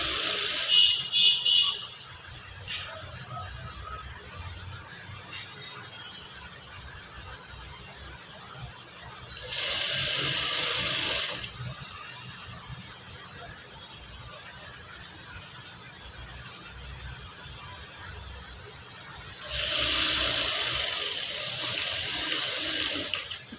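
A sewing machine stitches Punjabi dress fabric with double stitching: two bursts of high, buzzing whir of about two seconds each, separated by quieter handling sounds and low background noise.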